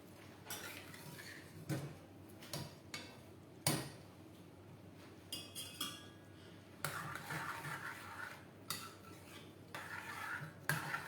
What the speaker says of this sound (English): The process is stirring again and again to the pan so that the rice absorbs all the broth stock.